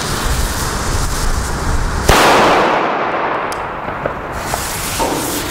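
German firecrackers in a loudness test make a dense crackling roar of bursts, with one sharp, very loud blast partway through followed by a long noisy decay, heard close and without talk.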